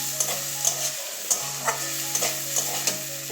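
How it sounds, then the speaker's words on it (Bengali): Bean mash being mixed with fried lentil dumplings (bori) in a hot pan, a soft sizzle under rhythmic spatula stirring, with regular scraping taps about every half second. "ভালো করে মিশিয়ে দিচ্ছি"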